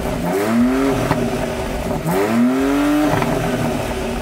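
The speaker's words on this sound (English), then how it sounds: "quad exhausts down the bottom there, which make an absolutely epic noise for a six-cylinder engine" A 2022 BMW X3 M Competition's six-cylinder engine barks through quad exhausts in two sharp revs, each rising pitch swell falling back to a close, loud idle burble.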